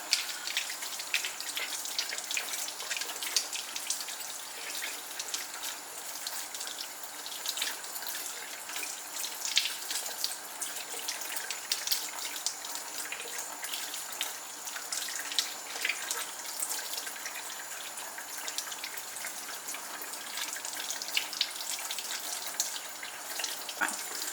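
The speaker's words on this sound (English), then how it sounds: "I can quickly rinse the soap out of that." Paint brushes being rinsed of soap under a running tap, with a steady hiss of water into a sink that continues unbroken for the whole stretch. No one speaks.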